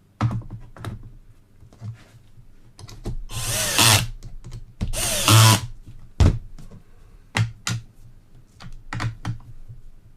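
Screws wound down into a Tyrolia Attack 11 ski binding with a power screwdriver, two sustained whirring bursts among close clicks and taps of handling, no talking.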